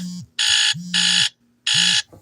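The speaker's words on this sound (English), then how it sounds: "I'm sorry for the buzzers." A loud electronic buzzer alarm sounds in three harsh, evenly spaced blasts, each about half a second long, with short gaps between them.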